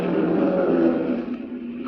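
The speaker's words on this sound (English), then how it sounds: "Watch that Jaguar accelerate." A Jaguar race car at the 1956 Nassau Speed Week accelerates near blind man's curve, its engine giving a steady, roaring drone with a harmonic tone that holds strong, then thins slightly at the end. No voices.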